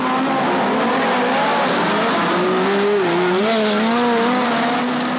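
Midget race cars on the Western Springs Speedway dirt track during a Boxing Night feature, engines screaming and shifting pitch as several cars pass through the turns amid a constant crowd-and-engine roar.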